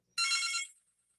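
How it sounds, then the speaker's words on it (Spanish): A telephone gives one short electronic ring, a bright, high-pitched trill lasting about half a second, clear and close against near silence before and after. "dejen colgar el teléfono"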